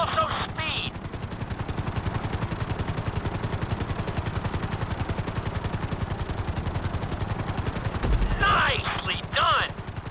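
A helicopter flies through a flight-school course in GTA V, its rotor chopping loud and steady throughout, with short bursts of synthetic beeping near the start and the end.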